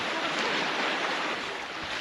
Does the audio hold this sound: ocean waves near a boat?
yes